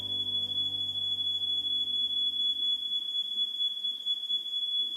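A smoke or fire alarm sounds indoors, a loud sustained high-pitched electronic tone that holds steadily from start to finish while a lower hum fades out partway through.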